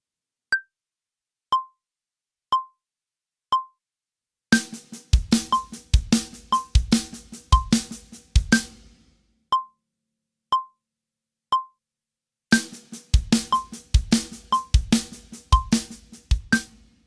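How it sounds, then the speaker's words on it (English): Drum kit linear fill practice: snare hits alternating right and left hands with a bass drum replacing the last stroke, played in bursts over a steady sharp metronome click that ticks alone between the drumming passages. "we are basically replacing now the last hit of the snare drum with a bass drum."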